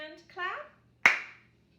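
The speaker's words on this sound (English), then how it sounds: "right hand clap, left hand clap, right hand clap" A single sharp hand clap rings out close by during a children's clapping game, coming just after a voice.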